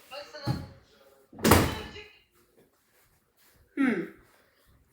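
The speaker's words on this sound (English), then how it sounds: "let me close the door" A house door is pushed shut, giving a few solid thumps and slams spread across the moment, close by, with people talking around them.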